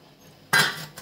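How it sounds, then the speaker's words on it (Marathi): A lid set down on an idli steamer pot, one short metallic clatter near the middle followed by a faint second clink, close up after a quiet moment. "झाकण ठेवते"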